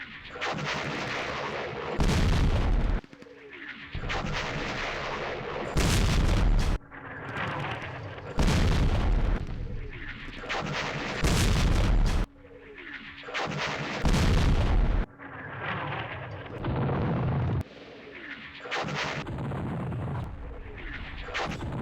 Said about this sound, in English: Useful airstrikes. Thanks, Navy.